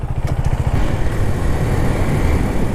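A Husqvarna Svartpilen 401 motorcycle engine runs close by, a steady, throbbing low rumble with a slightly faster pulse at the start, holding even and loud throughout with no one talking.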